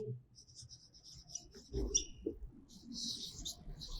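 Pen or marker writing on a board during a class five maths lecture on prime factorisation, a faint scratchy stroking under a voice speaking Hindi, with a short chirp-like squeak near the start.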